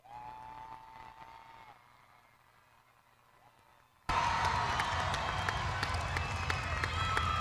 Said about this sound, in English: Y'all give them another big round of applause.